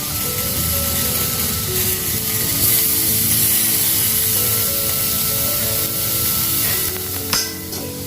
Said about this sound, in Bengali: ভালোভাবে ভেজে নিতে হবে